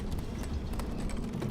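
A horse galloping in the video game Elden Ring, a quick, even run of close hoofbeats thudding in a steady rhythm over a low ambient bed.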